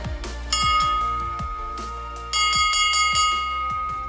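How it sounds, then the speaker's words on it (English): A large bell rings at a castle in Slovenia, two loud strikes with long shimmering metallic decays hanging in the air, heard alone without talk. "Danger bell."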